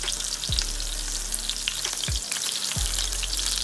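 Chicken sizzles steadily in a hot pan just after being flipped, a constant crackling fry with a few low thumps as pieces shift, no talking.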